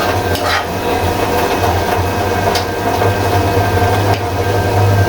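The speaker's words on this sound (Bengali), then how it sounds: "আমার লতিটা আবার নেড়ে চেড়ে দিচ্ছি।" Taro stolons (lati) being stirred as they cook in a pan, with a continuous sizzle, a low hum and occasional scraping taps from the stirring.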